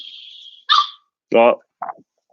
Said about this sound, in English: I'll let him out. He's barking.